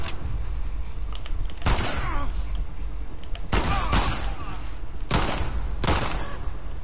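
Gunshots in The Last of Us video game, several loud, sharp blasts spaced a second or two apart over a steady game background, with some speech nearby.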